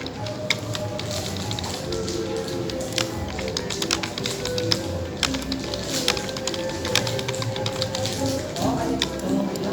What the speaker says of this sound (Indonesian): kemudian saya ketikkan sebuah tabel di sini